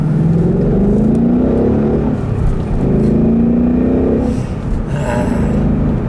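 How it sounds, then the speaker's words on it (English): A car engine revs and accelerates in repeated rising pulls, loud and close, with a brief whine near the end and no talk. "Leave you guys with a nice little acceleration here like I always do."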